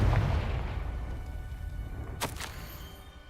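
A blasting spell explodes in a Harry Potter wizard video game: a low rumbling boom at the start decays slowly, followed by two sharp crackling bursts near the end, with no talking.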